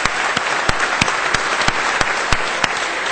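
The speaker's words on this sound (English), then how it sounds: "Can we just have a quick round of applause for those fantastic organizers and their hard work?" Conference audience gives a round of applause for the event organizers at a keynote, continuous even clapping with a few sharper individual claps standing out.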